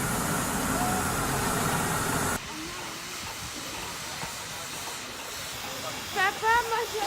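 A steam locomotive, the Jacobite in Scotland, blasts a loud, broad steam hiss for a couple of seconds, then cuts off, leaving a quieter rumbling background with a brief voice near the end.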